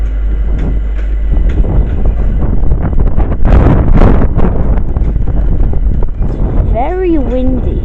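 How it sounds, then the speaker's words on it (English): Strong wind buffets the microphone at Stratford station in London, a loud continuous roar and rumble with gusts peaking midway and a person speaking near the end. "It's very windy here at Stratford today."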